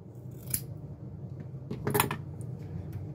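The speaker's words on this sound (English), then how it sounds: "I'm just going to go back to the good old green scotch pad, cut a little strip off here," Scissors snip a strip from a green scotch pad while cleaning copper commutator plates on a prewar Lionel 2689W whistle tender; two crisp, close cuts about a second and a half apart over a low, quiet background hum.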